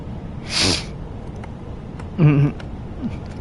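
Two short sharp sneeze-like bursts, a second apart, close by in a quiet room, followed by a faint sniff.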